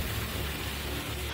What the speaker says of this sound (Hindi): मूसलाधार बारिश से शहर जलमग्न है।